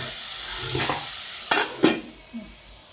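Onions fry in a pan with a close, steady sizzle. Two sharp scraping stirs and a softer clink break through it, and no voices are heard.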